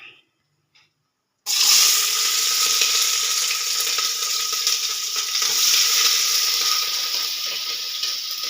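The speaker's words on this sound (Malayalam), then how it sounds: "സവാള ഇട്ട് ഇനി അത് നന്നായി ഒന്ന് വഴന്ന് വരട്ടെ." Sliced onions drop into hot oil in a pan for beef curry and set off a loud, steady sizzle of frying that carries on without a break. No one speaks.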